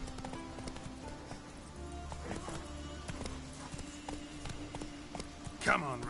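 A horse galloping in The Witcher 3, with steady rhythmic hoofbeats and a brief whinny near the end, under game ambience and a speaking voice.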